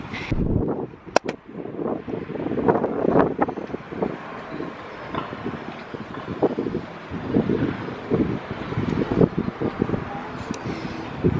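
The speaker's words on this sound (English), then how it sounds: "it's always windy" Gusty wind buffets the microphone in a steady, rough roar with uneven bursts throughout.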